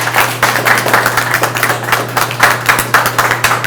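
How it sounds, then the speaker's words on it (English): An indoor crowd at a police academy graduation claps in a loud, dense, steady round of applause that carries on throughout without a break. "So cadets, please give your loved ones a round of applause."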